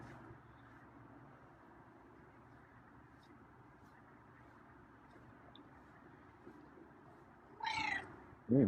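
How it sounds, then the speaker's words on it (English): A feral cat gives a short meow near the end, with a soft, rolling purr-like quality, then a louder burst right after, over a quiet steady background hum. "There's a nice purry meow."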